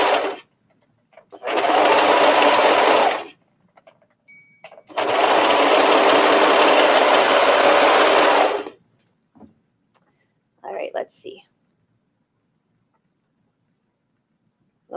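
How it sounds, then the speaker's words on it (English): A serger stitching knit fabric for the sleeves of a tee runs in two long, steady, buzzing bursts close by. A brief third run follows after pauses of silence. "You don't ever want to push it down on your serger like this."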